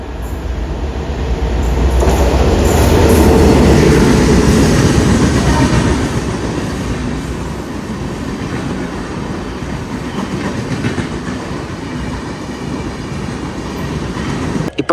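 The Dhanbad–Alappuzha Express passes on the Ernakulam–Thrissur line in Kerala, a loud close rumble of rolling wagons that swells over the first seconds and then settles into a steady clattering roar.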